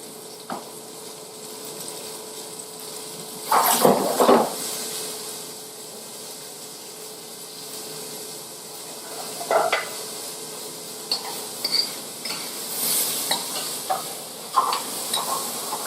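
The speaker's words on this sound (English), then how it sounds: "It's hot over here. I'm going to melt some butter." Butter melting in a hot pan while poultry is prepared, a low steady sizzle with a few sharp clinks and scrapes of a utensil against the pan at irregular moments, close by, no talking.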